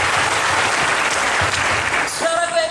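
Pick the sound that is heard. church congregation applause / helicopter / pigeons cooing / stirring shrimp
church congregation applause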